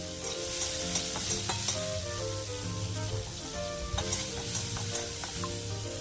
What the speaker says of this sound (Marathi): मौरी, मिरची कांदा कढीपत्ता हे सगळं छान ब्राऊन होईपर्यंत परतून घ्यायचं